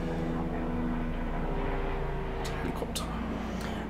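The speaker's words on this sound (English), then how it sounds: "Helicopter." A helicopter passes overhead as a continuous, heavy low rumble and roar that stays steady and fairly loud throughout, with no talking.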